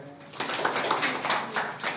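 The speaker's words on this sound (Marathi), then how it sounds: "ओके, टाळ्या." Audience applause at a test results ceremony for ranking students, a steady wash of many hands clapping from about a quarter second in, filling the room at moderate volume.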